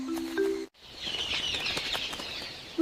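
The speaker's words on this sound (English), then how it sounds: "I hear birds." Bright bird chirps and tweets in an animated Brazilian rainforest, scattered over a dense, hissing natural ambience, with a brief dropout early on before the chorus continues steadily.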